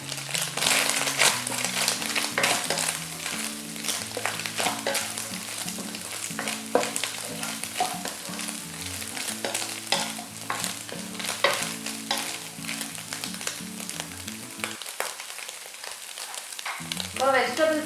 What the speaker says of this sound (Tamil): இதையும் வந்து நம்ம ஹை ஹீட்டில் சாட்டே பண்ண போகிறோம்.